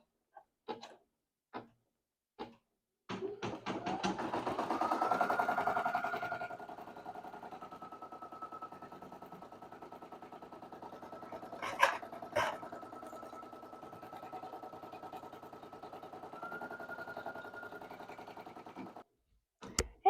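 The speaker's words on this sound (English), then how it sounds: "go ahead and click on embroidery and then go ahead and get it started back up and finish the last half of the design" Embroidery machine stitching the second half of a large design in a 5x12 repositionable hoop, a steady mechanical whir running after a few clicks, moderately close, with no talking.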